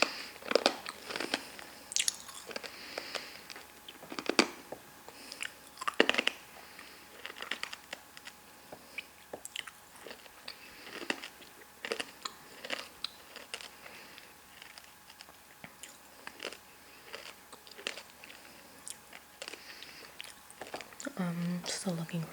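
Hard candy crunches and cracks between the teeth in close, quiet bites, with irregular sharp snaps and softer chewing between them over a near-silent background.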